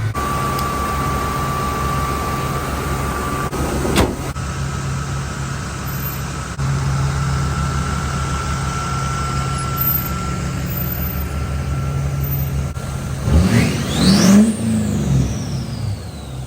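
An old, inherited diesel truck engine idles steadily while warming up: a continuous, close, low rumble, then a brief rising rev near the end before settling again. There is no talking.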